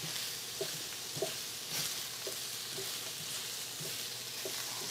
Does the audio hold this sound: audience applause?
no